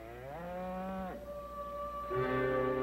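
Cattle low nearby, with a long drawn-out moo followed by a second deeper call, under steady outdoor background noise.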